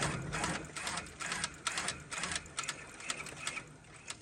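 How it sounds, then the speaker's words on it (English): An embroidery machine stitching a fitness logo runs in rapid bursts, fast and dense on close satin stitches and slowing for jump stitches, giving a pulsing mechanical chatter heard up close with no talk. "See how it's sped up there because of the satin stitches being so close together."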